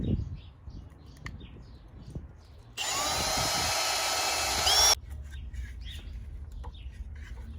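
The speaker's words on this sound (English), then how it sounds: "Probably best I just take this down and drill it." A power drill whirs loudly for about two seconds, close by, while drilling a hole during a security camera install on a Ford Transit Connect van. Quieter handling noises come before and after it.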